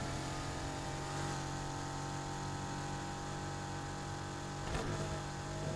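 A Porsche with a modified exhaust runs in Need For Speed Heat, a steady, moderately loud engine drone holding a constant pitch throughout with no breaks.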